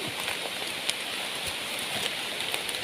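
Steady rain falls across a forest during a mushroom hunt, a dense, even hiss with scattered louder drop hits, continuous and close throughout.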